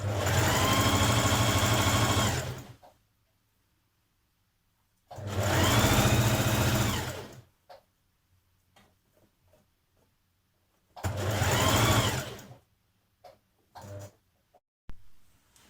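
A sewing machine stitches jersey dress seams in three bursts of steady whirring, each lasting about two seconds, separated by quiet pauses filled with small clicks and handling sounds.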